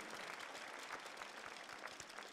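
Distant audience applause at the 2015 Coupe du Monde de la Pâtisserie, a faint, even wash of clapping from a large hall.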